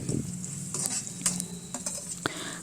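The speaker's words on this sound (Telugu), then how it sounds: "చూడండి ఉల్లిపాయలు ఫ్రై అయింది" Onions frying in a pan for a ridge gourd and spinach curry give a steady close sizzle, broken by a few sharp scrapes and clinks as they are stirred.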